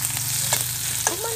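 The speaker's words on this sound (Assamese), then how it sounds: "ফ্ৰাই কৰিম" Green chilies, onion, ginger and garlic fry in a pan, in oil left over from frying fish, giving a continuous close sizzle with a few light scrapes of stirring and no talk.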